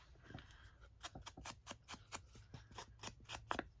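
Scissors make a quick run of short, crisp snips, a dozen or so in steady rhythm, as paper is trimmed for a junk journal; the sound is close and quiet with no speech.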